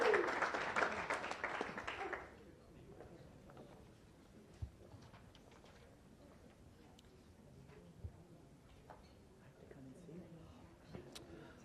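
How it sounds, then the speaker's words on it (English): A round of applause from members at a Las Vegas Rotary Club meeting bursts out loud for about two seconds, then drops away to a quiet room with faint shuffling and murmurs. "We should have a round of applause."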